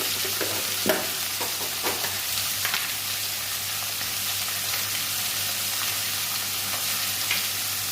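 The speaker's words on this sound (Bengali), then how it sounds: "খুব একটা ভাজবো না, সামান্য ভাজবো।" Kajli fish sizzle steadily in oil in a pan while being stirred, a dense continuous frying hiss with occasional scraping and clinking of the utensil, close and fairly loud, no voices.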